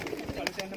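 Low pigeon coos murmur from a loft holding around 111 birds at feeding time, a short soft burst of calls with a voice speaking over them.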